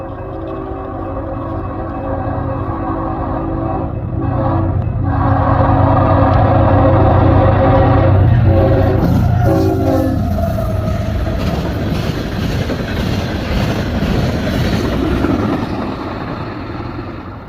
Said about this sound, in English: We got a train coming from the west.